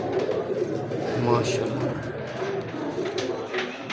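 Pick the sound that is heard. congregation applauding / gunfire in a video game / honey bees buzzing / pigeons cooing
pigeons cooing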